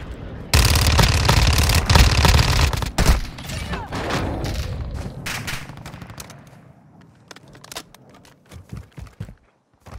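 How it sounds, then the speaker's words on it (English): Gunfire in Warzone 2 erupts as a loud, dense burst of rapid automatic shots, then continues in scattered, fainter single shots and short bursts with footsteps mixed in. "Why exactly is that guy shooting me?"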